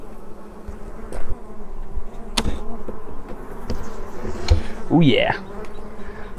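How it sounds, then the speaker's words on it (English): Honeybees buzz steadily and loudly around open hives during package installs, a dense continuous drone with a few nearby bees passing close, while a person speaks briefly. "lots of bee activity, lots of work going on."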